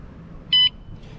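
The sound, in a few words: electric bike alarm beeping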